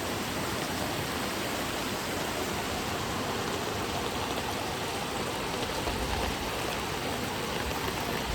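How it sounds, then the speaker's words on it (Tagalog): River and stream water rushing strongly beneath a bridge in Barangay Uno, a loud, continuous broadband roar of flowing current with no voices. "Ayan, dito tayo ngayon sa ilog. Ayan na yung tulay. Ayan yung sapa."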